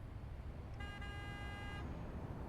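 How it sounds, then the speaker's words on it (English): A truck horn in American Truck Simulator gives one steady, fairly faint honk of about a second over constant low road and engine rumble. "Now, how does this horn sound?"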